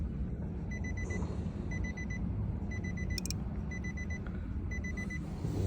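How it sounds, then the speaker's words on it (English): A car key programming machine, used while making a new fob for a 2014 Nissan Maxima, beeps in several evenly spaced bursts of short, clear electronic tones over a steady background hum. "So we're gonna make sure this beeps 5 times."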